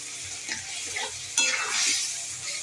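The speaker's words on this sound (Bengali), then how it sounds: "আমি এবারে নারকেলের দুধটা আমি ঢেলে দিলাম" Coconut milk is poured into a hot cooking pan, bringing a soft, steady sizzle and faint stirring that swells briefly midway, quiet and close, with no voices.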